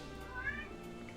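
A cat meows once, faint and a little distant, a short rising cry over quiet room noise.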